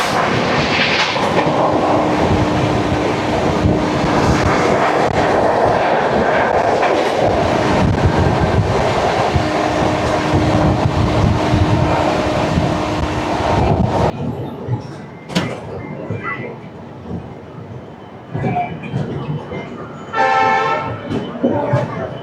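Haridwar–Bandra Terminus superfast express train rushing through Meerut at high speed, a loud continuous roar of wheels and carriages that drops off after about fourteen seconds, leaving quieter rattles and a brief horn-like tone near the end.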